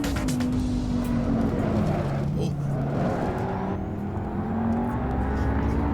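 A racing car's engine drones loudly and continuously around the Imola circuit in a driving game, its pitch sliding slowly up and down with gear changes while someone talks over it.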